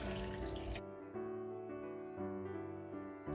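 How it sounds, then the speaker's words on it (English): About two cups of water are poured into a blender holding tiger nuts, a faint, resonant, gurgling stream with shifting tones as the jar fills, no voices. "I'm going to pour in some water and then start blending it"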